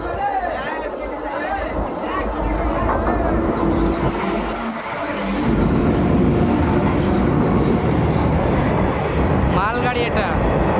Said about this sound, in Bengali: মালগাড়ি এটা।